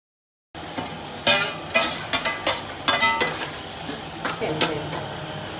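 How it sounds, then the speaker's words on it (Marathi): A spice mixture dry-roasting on a hot iron griddle for Malvani-style crab curry, stirred with a spatula: a low sizzle under about a dozen crisp, irregular scraping strokes, close and fairly loud, with no talking. "खमंग वास तव्यावर चांगला लालसर होईपर्यंत भाजायचं"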